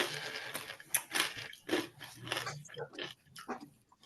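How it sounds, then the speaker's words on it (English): Someone munching food nearby, a run of uneven crunchy bites and chewing bursts, fairly close and moderately loud, with no clear talking. "I hear somebody munching."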